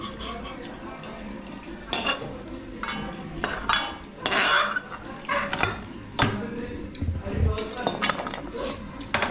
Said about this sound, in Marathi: आता खोबरं इथं परतायला लागले, शेंगदाणे इथे उकळायला लागले.